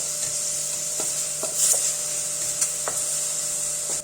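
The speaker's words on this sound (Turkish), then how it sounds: "Kıymaları kendi suyunu çekene kadar kavuruyorum." Minced meat dry-frying in a pot with no oil, a steady close sizzle and hiss running throughout, broken by a few soft scrapes and taps of the stirring spoon.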